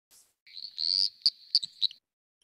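Frog call with a rasping trill followed by short, bright pip notes, three pips in quick succession, close and clear against silence.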